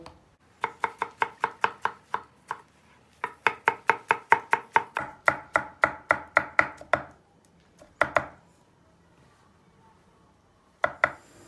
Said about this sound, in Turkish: Domateslerimiz de çok ince olacak.